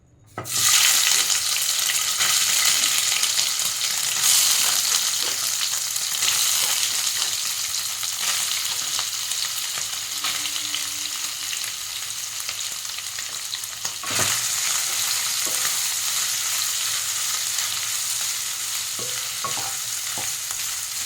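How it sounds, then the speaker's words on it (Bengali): Soybean chunks fry in a little mustard oil in a pan, giving a continuous loud sizzle with occasional stirring scrapes that carries on steadily throughout. "এবার একটি পাত্রে সরষের তেল দিলাম অল্প পরিমাণে, দিয়ে সয়াবিনগুলোকে ভেজে নেব।"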